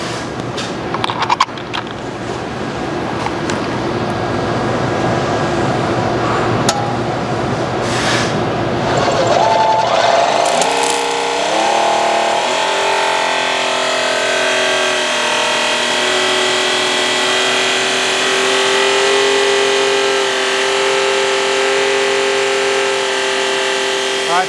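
A battery-powered electric pressure washer runs at about 2700 PSI with a steady, loud, continuous whine and hum that shifts pitch partway through, with a rougher rattling start.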